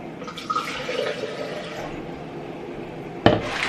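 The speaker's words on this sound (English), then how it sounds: "So I'm going to add water first." Water pours into a blender jar for a smoothie, a steady splashing rush through most of the stretch, then a sharp clunk near the end.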